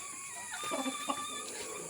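A rooster gives a few short clucking calls close by, over a faint steady background hum.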